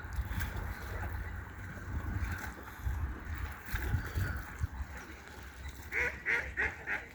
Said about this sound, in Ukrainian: О, качки, качечки кричать, ках-ках-ках.